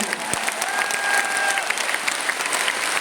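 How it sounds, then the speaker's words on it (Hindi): A training seminar audience claps in a short, lively burst, crisp overlapping hand claps from a roomful of people with a faint voice or two mixed in. "तो तालियां उतनी बजाइए जितने आपको फीलिंग आ रही है प्रोडक्ट को।"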